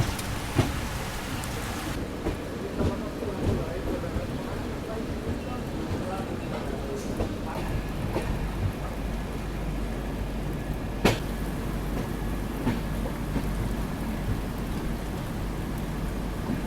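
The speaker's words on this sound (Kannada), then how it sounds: "ಏನು ಜೋರು ಐತ್ರಿಪ್ಪ ಇಲ್ಲಿ ಮಳೆ ನೋಡ್ರಿ" Heavy rain pours during a scenic train journey between Sakleshpur and Subramanya, a dense continuous hiss with scattered sharper drops and a faint low rumble underneath, steady throughout.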